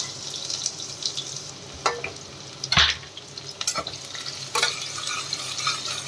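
Onions frying in oil and ghee with whole garam masala, a soft continuous sizzle broken by several sharp scraping stirs of a spoon in the pan.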